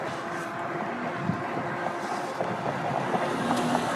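A Lectric XPremium mid-drive ebike motor drones steadily at about 20 mph in high pedal assist, a continuous whir blended with rushing wind noise and no talking.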